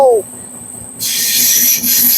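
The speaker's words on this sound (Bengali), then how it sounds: "ট্রেনটা ঢুকছে কিভাবে দেখুন একবার কেলা ম্যাঙ্গালাম স্টেশনে ঢুকছে ট্রেনটা" Train pulling into Kerala Mangalam station in the Western Ghats, with a loud hiss and high metallic squeal that fade, then a bright rushing hiss with wheel screech rising again.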